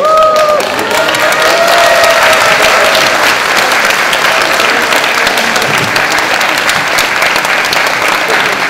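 A hometown crowd, including the guest's elementary school classmates, applauds at a political gathering: loud, dense, sustained clapping after a brief voice at the start.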